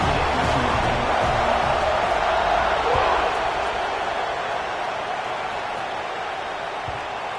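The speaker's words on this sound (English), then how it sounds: "this crowd is buzzing after that last score" A packed American football stadium crowd keeps up a dense, continuous roar after a score, steady and loud throughout, with broadcast commentary audible over the noise.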